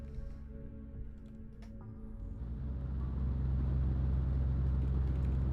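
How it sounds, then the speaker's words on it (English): A ship's engines starting in a video game, a low rumble that swells after a couple of seconds into a steady, loud, deep drone. "Start engines."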